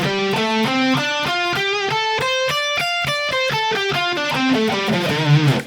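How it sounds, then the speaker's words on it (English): Electric guitar with distortion plays the first-position minor pentatonic scale, a steady run of evenly spaced single notes climbing and then descending, clear and alone. "The first position of the minor pentatonic shape sounds like this."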